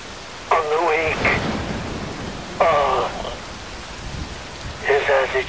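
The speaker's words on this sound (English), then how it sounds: "Wind blows. Rain falls." Steady rain and rumbling thunder in the video game Metal Gear Rising: Revengeance, a continuous wash of rainfall with low rolls beneath, while a voice speaks in bursts over it.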